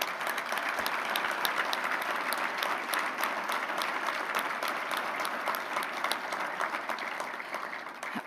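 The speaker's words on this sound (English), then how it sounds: "Can you give them a round of applause?" An audience at a keynote address applauds with a fairly quiet, even wash of many hands clapping that holds steady for several seconds and tapers slightly at the close.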